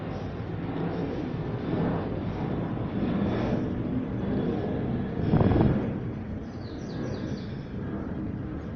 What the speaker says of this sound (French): Il y a un avion qui passe, j'attends qu'il passe